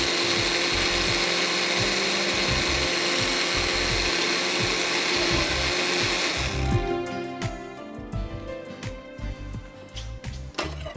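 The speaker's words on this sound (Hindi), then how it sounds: "अब ये दाल को मैं निकाल के दूसरी पीसना शुरू करूँगी" Countertop blender grinding soaked dal (lentils) for a fudge cake, a loud, steady whirring grind for the first six seconds that then cuts off, leaving clattering and knocking of the jar and lid with no talk.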